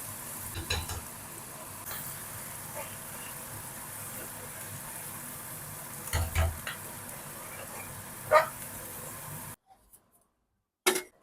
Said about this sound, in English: Then I'll add the onions in and I'll fry them.